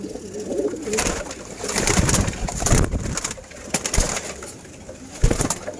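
Pigeons kept for sale in Dhaka's Wari area coo softly and repeatedly close by, their throaty calls overlapping above a busy background of shuffling and wing flutters.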